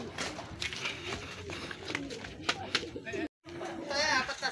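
Racing pigeons arriving at the loft during a hard race in San Narciso, Quezon, with bird coos and wingy bustle mixed into steady outdoor noise while people talk throughout.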